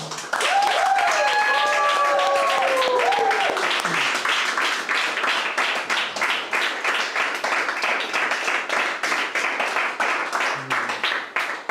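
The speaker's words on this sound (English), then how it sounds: "Let's give a round of applause to Uncle Simon." A church congregation at a Sunday service claps for a speaker, broad steady applause filling the room for about ten seconds, with voices and a sustained tone heard over it early on.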